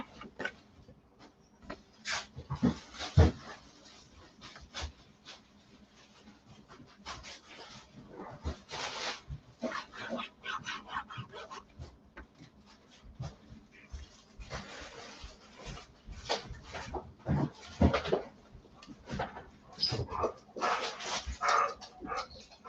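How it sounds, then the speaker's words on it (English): A dog pants and whimpers on and off in a room, with occasional soft yips and rustling, close by and at moderate volume. "Crazy dog."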